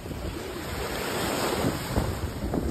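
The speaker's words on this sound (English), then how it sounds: "Big wave." Waves crash and wash over rocks on a Crete shoreline, a loud continuous roaring surf mixed with heavy wind buffeting the microphone, with no voices.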